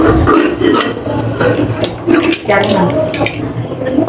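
A pressure cooker lid is opened while mutton curry cooks: close metallic scraping, clinking and knocking of steel, loud and uneven, with someone speaking briefly over it.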